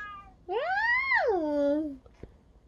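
A single drawn-out cat meow, rising then falling in pitch, clear and close against a quiet background.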